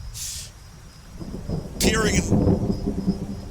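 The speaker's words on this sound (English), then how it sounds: "and through the pouring rain," Rain and thunder ambience plays during a Rolemaster tabletop role-playing session: a steady wash of pouring rain over low rumbling, with a sharp thunder crack breaking in about halfway and rolling on loudly to the end.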